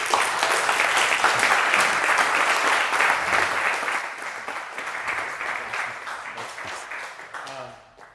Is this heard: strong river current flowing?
no